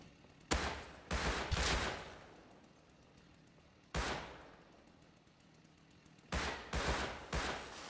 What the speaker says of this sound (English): those explosions are really close.